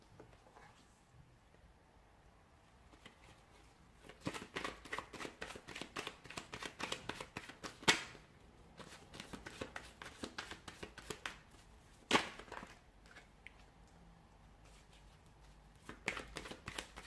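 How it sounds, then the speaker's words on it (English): Tarot cards are shuffled by hand in a quiet room, a faint rustle at first, then bursts of rapid riffling flutters with a couple of sharper card snaps between pauses. "Cards are just flying out."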